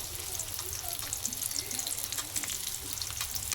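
Chopped onion frying in oil in the same pan used for frying potatoes for a potato and pointed gourd curry, a steady close crackling sizzle with faint clinks and small stirring noises throughout, no voices.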